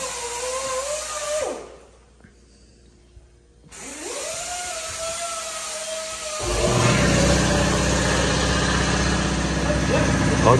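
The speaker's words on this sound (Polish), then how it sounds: "Hercules motor." The Hercules engine of a Gleaner combine harvester runs with a steady mechanical hum that rises in pitch, drops away briefly, then returns louder and rougher, with people talking nearby.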